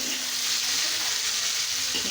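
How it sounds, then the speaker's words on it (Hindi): Green chilies frying with onion and tomato in a pan, a dense continuous sizzle close by with soft stirring underneath. "ग्रीन चिली भी फ्राई हो जाएगी"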